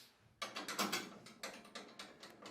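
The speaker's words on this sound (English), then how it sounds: "I've got my socket on the outside. Tighten that one up." A socket ratchet clicks in quick bursts as it tightens a bolt while a Hyundai HYCH700 wood chipper is being set up, the pawl ticking rapidly and close by with no talk.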